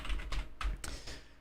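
Brief burst of typing on a computer keyboard, a handful of close, quick key clicks in an uneven rhythm.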